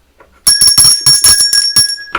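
A notification bell sound effect rings in a quick series of bright, clear dings, loud and close, with nothing else beneath it.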